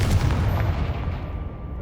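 A Confringo blasting curse in Hogwarts Legacy bursts as one booming explosion that rumbles deep and loud, then fades out over about two seconds.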